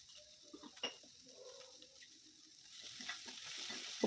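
Onions frying in a pan with curry leaves and dried chillies for a home-cooked lunch, a soft steady sizzle with scraping stir strokes coming through close up and no talking.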